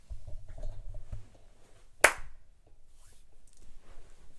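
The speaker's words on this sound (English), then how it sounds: "I love dapping up and I hear the clap." One sharp, close hand clap from a dap handshake, a single crisp smack after a moment of quiet.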